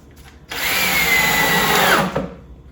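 A power drill drives screws into the wooden box of a homemade bee swarm trap, one steady high whine lasting about a second and a half, loud and close, rising slightly before cutting off.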